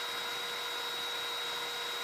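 Sanding an ash wood box spinning on a lathe, played back at eight times normal speed: a steady, unbroken high whir and hiss at low level, with no talking.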